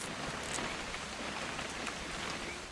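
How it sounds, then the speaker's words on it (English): Soft, even rainfall in What Remains of Edith Finch, a steady low hiss of drops pattering on surfaces at a faint level, with no voices. "It's gonna rain the whole weekend"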